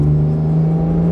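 A Porsche 991.2 GT3 engine revs hard on the Kuwait Motor Town national circuit during a hotlap, a loud, steady, close high-pitched engine drone holding its tone throughout without any speech over it.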